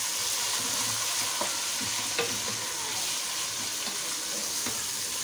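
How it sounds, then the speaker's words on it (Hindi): Beef frying in a pan with onion, garlic, ginger and garam masala gives a steady, moderate sizzle with occasional stirring clinks. It runs continuously and close, with no talking. "प्याज लहसुन अदरक और गरम मसाले के साथ पहले जो है ना इसको भून लेंगे अच्छे तरीके से।"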